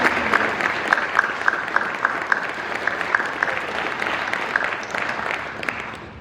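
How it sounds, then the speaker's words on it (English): A banquet audience applauding faculty and staff at a welding program banquet, a full, steady round of clapping from many hands that slowly fades. "Let's give your faculty and staff a big round of applause."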